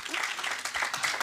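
An audience claps together at a summer theatre event, brisk and fairly close, the applause thick and even for its short length.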